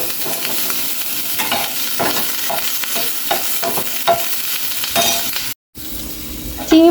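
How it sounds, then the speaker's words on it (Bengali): Ten or twelve small shrimp fry lightly in hot oil, loudly sizzling under repeated rhythmic scrapes and stirs of a spatula against the pan, with a brief gap in sound near the end and no talking. "চিংড়ি মাছগুলো আমি হালকা করে ভেজে নিচ্ছি"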